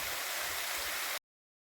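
Waterfall in a park in Portugal, a dense, steady rushing wash of falling water heard close and alone before cutting off abruptly.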